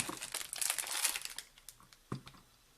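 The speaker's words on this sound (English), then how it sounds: "So it just came in this little plastic package." A small plastic package holding a clear stamper crinkles and crackles as hands handle it up close, in a dense burst of rustling that fades into a few sharper snaps.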